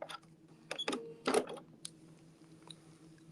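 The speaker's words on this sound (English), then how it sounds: "I'm going to come up and do 3 or 4 little stitches" Sewing machine making a few short stitches, brief quiet whirring and clicking bursts separated by pauses, close and faint, with small mechanical taps afterward.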